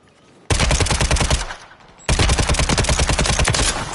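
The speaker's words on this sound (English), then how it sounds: "Let me try this gun." Automatic gunfire from a weapon in the video game Warzone comes in two long, loud bursts of rapid, evenly spaced shots, separated by a short pause.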